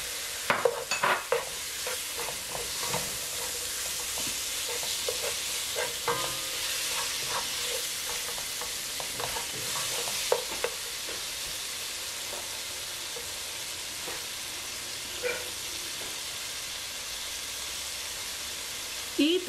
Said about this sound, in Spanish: la tocineta. La vamos a poner a sofreír ahí.